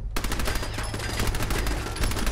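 An automated turret in the Fallout wasteland fires a rapid, sustained burst of loud gunshots, close and continuous for a couple of seconds with no talk over it.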